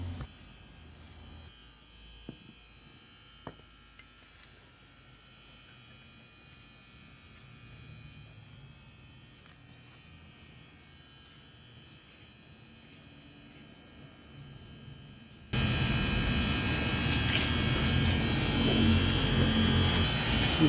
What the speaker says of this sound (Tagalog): sabi ng ating electrician, yung bearing yung maingay